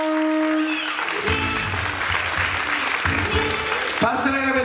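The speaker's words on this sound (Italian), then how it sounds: "facciamo un applauso!" Applause at a Miss Parco beauty pageant final, a steady crowd clapping that rises after a short spoken introduction and carries on under music and an announcer's voice.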